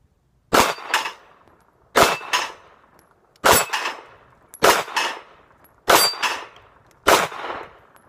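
Six pistol shots from a SIG Sauer P238 carry pistol, each sharp report followed by a ringing metallic clang as the round strikes a steel target, evenly spaced and loud with no talking.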